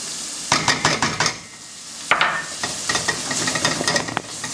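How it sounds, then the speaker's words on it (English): Thai shallots and garlic sweat gently in a pan, a low steady sizzle broken by bursts of stirring and scraping against the metal, close and fairly loud, with no talk. "we're going to put our Thai shallots in, let those sweat gently"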